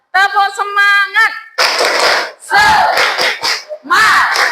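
Audience at a teacher-training event in Indonesia doing the Tepuk Semangat chant: a voice leads, then a loud burst of group shouting with rhythmic clapping, in close, energetic repeated waves.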